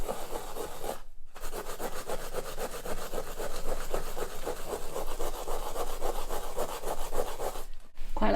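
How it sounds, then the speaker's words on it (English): A metal pan scrubber scrapes back and forth across a mixed media canvas in fast, rasping strokes, a dense close scratching that runs steadily with two brief pauses. "It's a pan scrubber."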